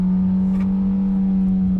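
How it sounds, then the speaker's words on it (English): Engine braking in a 2021 Hyundai Elantra after a downshift from second gear, a loud, steady droning hum from inside the cabin with no one talking. "Downshift, and the engine braking's really strong"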